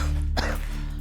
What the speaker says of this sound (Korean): 청소 중에도 기침이 멈추질 않는데요